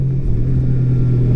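A 2018 Honda Goldwing motorcycle engine pulling hard in sport mode, a loud, steady low rumble holding its gear without downshifting, close and continuous with no talk.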